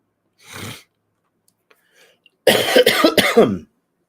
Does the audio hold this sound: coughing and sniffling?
yes